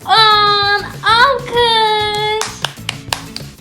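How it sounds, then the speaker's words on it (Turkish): After a voice rings out, a short burst of a few sharp hand claps follows, close and clear, in a playful counting game. "Alkış"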